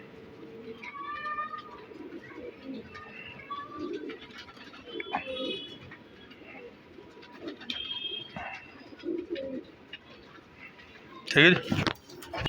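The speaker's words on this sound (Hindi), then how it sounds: "यहीं से मैंने अपने किसी अपने ख़ास बंदे से लिया ये कबूतर" Pigeon cooing in a pigeon keeper's loft in India, with soft, low, repeated coos scattered through the stretch under close male speech, plus a brief louder burst of wingbeats or scuffling near the end.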